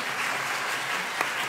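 A brief, steady patter of applause fills a committee hearing on empowering women entrepreneurs, even and sustained across the short moment.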